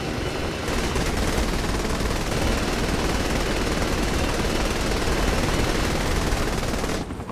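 Continuous loud gunfire and rotor roar in Saints Row The Third as a combat helicopter is attacked, a dense unbroken barrage lasting several seconds with no speech.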